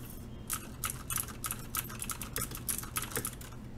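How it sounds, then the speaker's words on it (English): A Cooler Master MasterKeys S mechanical keyboard with laser-etched PBT keycaps is typed on in quick, uneven bursts of clicky keystrokes, fairly quiet and close, with no voice. "PBT keycaps definitely feel better."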